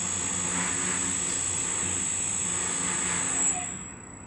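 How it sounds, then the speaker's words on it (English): An EZ Cut MK7 cutting machine hums steadily with a high tonal whine, then winds down near the end as the whine drops away and the motor noise fades to a quieter rest. "the machine will slow down and stop automatically on your preset"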